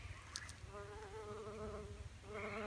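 A bumblebee buzzes close by among flowering weeds at the base of a fig tree in a garden, a steady droning hum that wavers in pitch as it moves, fairly faint against outdoor background.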